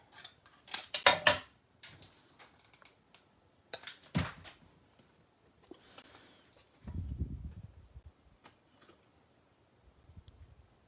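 Scissors cut through a card, giving quiet, scattered snips and small clicks close by, with pauses between them and a soft rustle in the middle.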